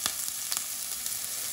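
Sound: onions sizzling in hot oil in a saucepan

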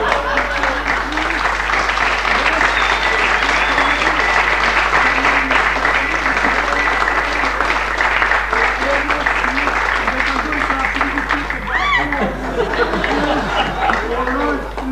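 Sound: audience applause after a magic trick

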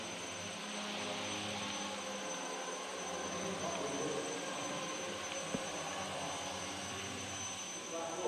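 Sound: aircraft and helicopters flying overhead

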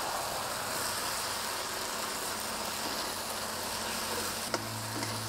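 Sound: stir frying morning glory in very hot oil

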